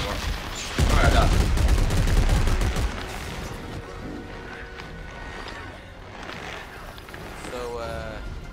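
Weapons fire at enemies in the video game Dead Space 3, a dense burst of rapid shots lasting about two seconds, then quieter rumbling and scattered hits, with people talking over it.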